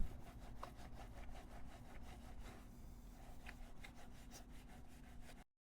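A brush scrubs foaming wheel cleaner gel into the barrel of a car wheel, making a fast, even swishing rub that runs continuously at close range for about five seconds before cutting off.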